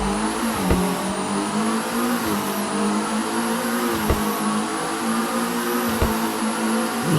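Upgraded McLaren GT4 race car with uprated engine and turbos in a racing video game, its engine holding a loud, sustained high rev with brief dips at gear shifts, no talking.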